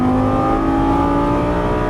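A Lamborghini Gallardo LP550-2 powers out of a corner on a racetrack, its engine note droning steady and loud under hard throttle, with a strong harmonic whine that holds for the whole stretch.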